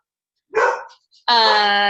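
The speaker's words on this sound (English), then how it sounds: "There's the dogs again." A dog gives a sharp bark close by, followed after a brief pause by a sustained loud whining howl, with no talk over it.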